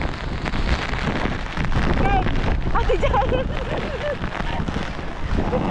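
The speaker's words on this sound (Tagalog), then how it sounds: "Diyos ko po, lakas ng hangin" Typhoon Kristine's strong wind roars across the microphone with rain, a constant heavy buffeting rush that never lets up, while a person speaks briefly over it.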